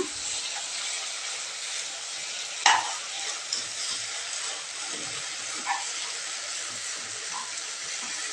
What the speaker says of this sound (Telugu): ఇంకోసారి పైకి కింది కలుపుకుందాం మొత్తం